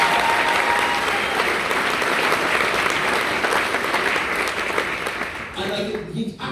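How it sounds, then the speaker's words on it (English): A comedy club audience gives Jason a sustained round of applause, a thick wash of clapping that holds steady for several seconds before thinning out near the end. "One more applause for Jason."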